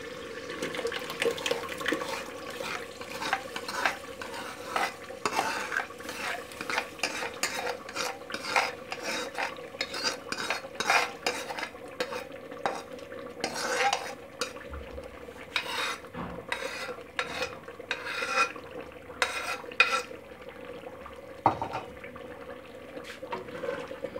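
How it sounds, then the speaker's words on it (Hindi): Ground spinach stirred into mutton in a pot for palak gosht, a soft, continuous wet scraping and stirring with faint clinks of a spoon against metal, steady and moderately quiet, no talking. "पालक जो ग्राइंड की थी वो डाल देते हैं।"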